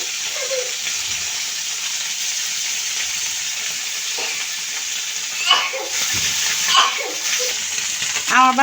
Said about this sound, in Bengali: আমার চাপিলা মাছগুলো ভাজা হয়ে গেছে